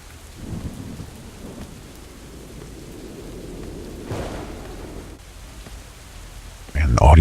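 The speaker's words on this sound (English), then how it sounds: "the audio quality is so bad on that thunder. It just kind of cuts." Steady rain falls with a low thunder rumble in a video game storm, the sound thin and uneven before a sudden loud burst at the end, as if the audio cuts and jumps.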